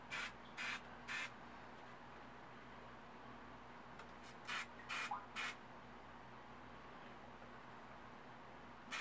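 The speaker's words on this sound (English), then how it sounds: "You can spray it on quite thick and not have it run." Aerosol spray-on leak sealant hissing from a can onto seed starter trays, in three short bursts early on, then four more bursts later, each a brief close hiss over a steady low background hum.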